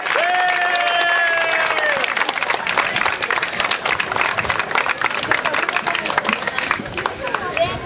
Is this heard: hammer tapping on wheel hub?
no